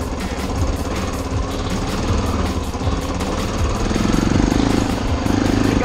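An all-steel Army Harley-Davidson motorcycle, about 350 pounds, rumbles over rocks off-road, its loud, close engine chugging in rough, uneven pulses that build toward the end.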